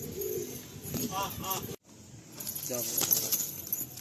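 A pair of Fulsora Kaldom pigeons coo in soft, low bursts, with brief flutters and rustles against a busy, noisy background.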